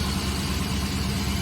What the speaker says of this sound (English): Just gonna let it idle.